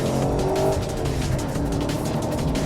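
A 2013 HSV Gen-F Clubsport R8 with a 6.2 V8 accelerating hard through fast, flowing corners, with a steady, full engine drone and faint tire noise, continuous and close.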